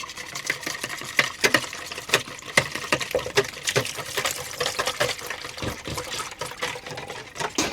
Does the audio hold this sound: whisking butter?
yes